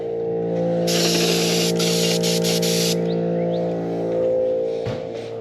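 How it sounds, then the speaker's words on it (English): Glitter and pearl paint for a golf cart is sprayed from a spray gun in a few bursts of bright hissing. The bursts run over a steady machine hum, with a short pause between passes. "Go out here and finish spraying it out."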